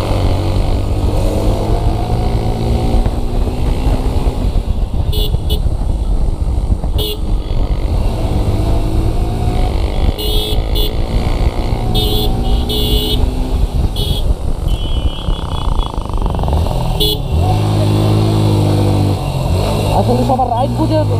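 A KTM Duke motorcycle rides along a road, its loud engine and wind rush continuous and close, with horn toots cutting in and people talking over the noise.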